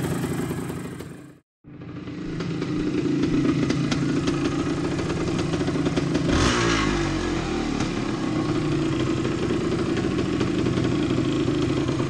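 A 1974 Yamaha DT360A two-stroke motorcycle running 32:1 premix starts after a brief cut, then rides with a steady, buzzing engine note and a rev rise midway, loud and close with no talking.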